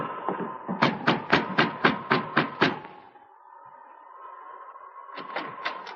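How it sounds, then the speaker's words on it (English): Knocking on a wooden cabin door as a sound effect in an old radio drama: a steady series of about eight firm, close knocks over a faint background hum, a pause, then three or four more knocks. "Joe Findlay went directly to the cabin where Sergeant Preston was staying and knocked on the door."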